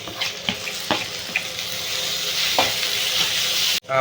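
Onions with curry leaves, tomato and green chili sauté for a chicken gravy in a pan, a continuous loud sizzle broken by a few spatula scrapes and stirs, close up.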